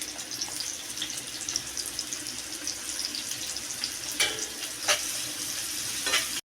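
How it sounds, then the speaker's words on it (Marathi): Onion sautés in hot oil in a pan, a steady close sizzle with occasional sharper spits and stirring scrapes, no talking over it. "तेल गरम झालं आहे आता आपण कांदा परतून घेणार आहोत"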